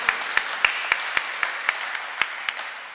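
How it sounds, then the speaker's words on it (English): Audience clapping at a tourism seminar's valedictory session, heard as a steady run of distinct, evenly spaced claps, moderately loud and close, like a small group or a single pair of hands. "No harm in clapping."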